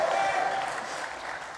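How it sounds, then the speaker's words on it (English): A small crowd at a UFC 243 press conference gives a brief round of applause, a dense patter of nearby claps that gradually fades over under two seconds, with faint talk around it. "thanks to all 5 people that clapped"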